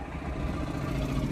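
A car engine runs steadily and loudly from start to finish, a continuous low rumble of a car being started for a driving lesson, with no voices over it.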